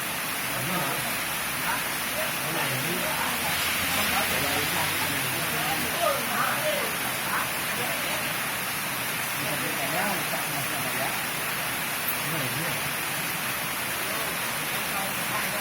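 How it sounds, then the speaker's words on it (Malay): Steady, dense hiss of rain pours down continuously, with muffled voices talking beneath the downpour. "hujan-hujan mendadak aja boleh kan?"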